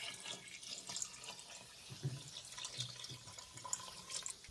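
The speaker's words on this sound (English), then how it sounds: "Add 2 1/2 quarts of water." Water runs from a tap into a cooking pot for a smoked pork stock with neck bones, a quiet, uneven splashing with soft drips and gurgles.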